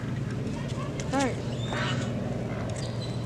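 Ducks quack at a park where a family is feeding birds: one clear, fairly close quack stands out midway, with people talking around it and more faint bird calls nearby.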